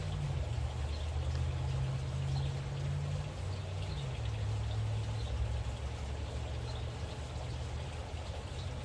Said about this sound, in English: We're going to rinse that out and then fill it up to the 9 milliliter mark.